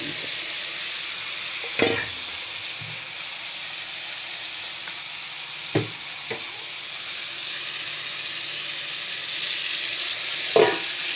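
Soaked spice paste frying with softened tomatoes in a pan, a steady close sizzle with a few sharp scrape and clatter accents from stirring.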